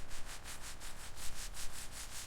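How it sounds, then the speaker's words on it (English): Steady, rhythmic scratchy rasping of hand sanding strokes on the metal body of a 1954 Mercedes-Benz 300SL, roughly four per second, close and even, with no voices. "Hand sanding follows machine."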